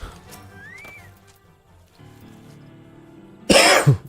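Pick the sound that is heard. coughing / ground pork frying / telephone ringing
coughing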